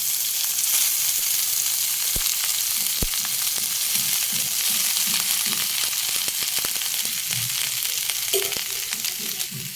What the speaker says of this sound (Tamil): ரைஸ் ஆட் பண்ணிட்டு நம்ம நல்லா இந்த மாதிரி மிக்ஸ் பண்ணிக்கலாம்